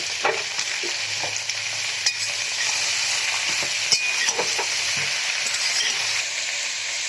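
Whole brinjal and beans frying in a pan with other vegetables, giving a steady, loud sizzle throughout, punctuated by occasional clinks and scrapes of stirring.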